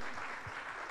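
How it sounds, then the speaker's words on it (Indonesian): Applause from a church congregation during a worship service, a steady broadband wash of clapping held at even loudness for under a second, with no voices on top. "Beri tepuk tangan yang meriah buat Tuhan"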